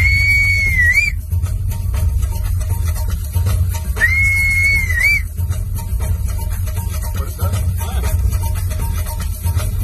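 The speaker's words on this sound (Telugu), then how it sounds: "ఈ విజిల్ బ్లోయర్ పోలీస్" A police whistle shrills in two separate blasts a few seconds apart, each about a second long, over a loud, steady, low rumbling background.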